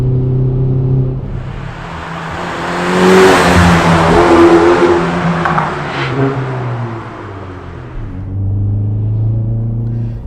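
Hyundai i30 N Performance engine and exhaust revving while driving, a loud close rumble that climbs into a roaring rev with crackly exhaust noise, then settles back to a deep drone, with no voices.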